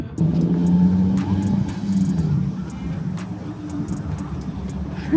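A Nissan 370Z fitted with a 2023+ Nissan Z exhaust rumbles steadily at low revs while cruising, with a deep, throaty drone and slight swells in loudness.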